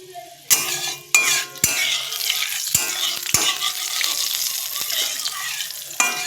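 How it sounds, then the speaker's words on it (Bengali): Cumin seeds sizzle in hot oil for a Bengali fish curry, a steady bright crackle joined by several sharp metallic clanks of a utensil against the pan, close and clear with no talking. "এখন আমি বসাবো মাছের ঝোল ঠিক আছে এই যে জিরা ফোড়ন দিয়ে দিলাম"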